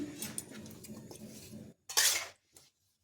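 Tomatoes and salt are stirred in a pan with a spoon, giving soft scraping and a few clinks of utensil against metal, close up, then pausing.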